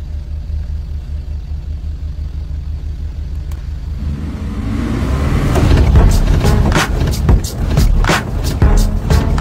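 Car with a manual transmission driving in a video game, engine droning steadily before revving up louder in the second half with sharp bursts of noise.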